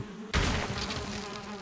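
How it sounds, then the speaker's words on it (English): Queen bee buzzing in Valheim, a steady insect drone that cuts in abruptly after a short quieter lead-in and holds loud and close to the end with no talk. "for right now, we have a queen bee, and I will most definitely take that"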